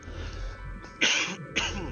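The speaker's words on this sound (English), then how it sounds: "Sorry, I had a cough." Two sharp, close coughs break through a quiet background, the second following shortly after the first.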